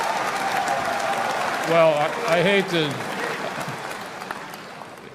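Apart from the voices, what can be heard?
crowd clapping at CPAC speech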